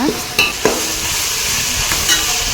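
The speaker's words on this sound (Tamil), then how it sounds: "இப்போது தக்காளி சேர்த்து நல்லா வதக்கிக்கலாம்." Onions, tomatoes and green chilies sautéed for chicken biryani, a loud close sizzle with sharp spoon scrapes and knocks against the pan, several distinct strokes over steady frying, no talking.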